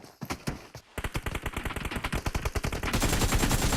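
AKM and M416 rifles fire in a video game: a few scattered shots, then rapid automatic bursts that grow louder and denser toward the end.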